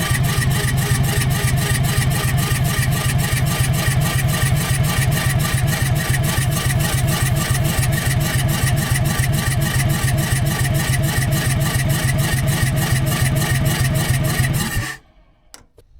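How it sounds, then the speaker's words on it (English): A dump truck engine with a bad blower cranks over steadily and loudly for about fifteen seconds, giving an even, rapid rhythmic chugging with no pauses, before cutting off abruptly into near silence. "Just listening to the engine cranking over, though, I can tell that it seems like it has, you know, even compression and everything."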